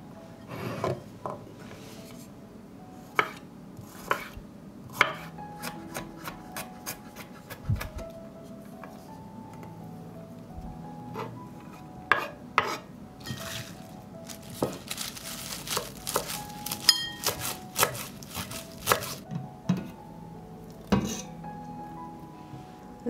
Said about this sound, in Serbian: Dok se supa kuva iseckat ću beli luk i peršun.